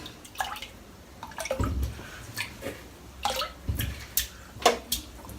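A shaving brush is dipped into water before a head shave, giving soft splashes, drips and small wet swishes in short irregular bursts, close and fairly quiet.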